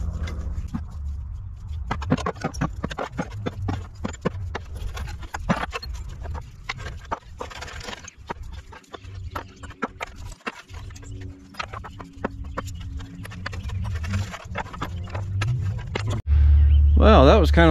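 An old toolbox from a 1946 John Deere BN tractor being rummaged through, with a steady run of clanks, taps and metal rattles as junk is pulled out, over a constant background hum.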